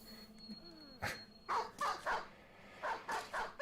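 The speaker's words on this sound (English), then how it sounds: "Our dogs are kind of coming in clutch now" Dogs in the Battle Brothers video game bark in a run of short, sharp yaps, several quick barks spaced across a few seconds against a faint background hum.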